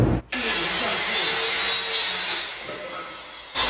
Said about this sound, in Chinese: 锯的时候，那个锯子一下就锯过去